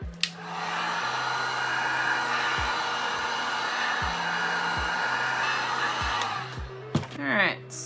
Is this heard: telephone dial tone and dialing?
no